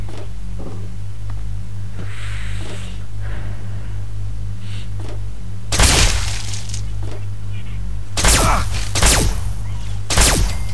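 Gunfire in the video game Fallout 3: a few loud, sharp shots ring out over a low steady background hum, with one at about six seconds and a tight cluster near the end.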